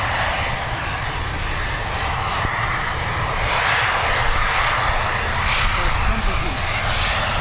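An American Airlines jet takes off at Dublin Airport, its engines giving a loud, steady, broadband roar that holds without a break.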